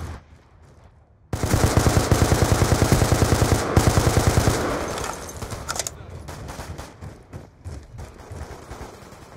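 A shooter video game fires a long, loud burst of rapid automatic gunfire, with shots evenly spaced for several seconds, then fading into scattered single shots and game noise.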